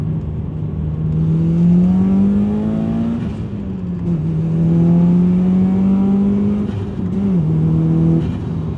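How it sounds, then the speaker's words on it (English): A Subaru STI engine revs up and down repeatedly, pitch climbing and falling in smooth sweeps, loud and close with a throaty hum underneath. "I'm gonna give it a little revs"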